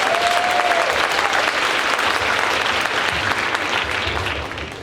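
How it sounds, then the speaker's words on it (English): A convocation audience applauds in a dense, sustained wash of clapping that holds loud and even for several seconds before starting to taper at the end. "Clap it up for that."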